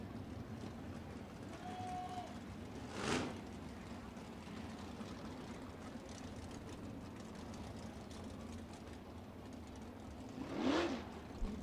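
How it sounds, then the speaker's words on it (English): Sprint car engines rumble low and steady as the cars roll slowly around the dirt oval at Lawrenceburg Speedway during a USAC National Sprints race, with two louder surges as cars pass near. "Let the drivers roll for just a little bit, get some heat back in the engines"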